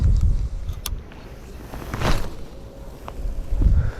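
Strong wind buffeting the microphone during lure fishing on cold water, heavy low rumbling gusts that rise and fall, with a few faint clicks and rustles underneath.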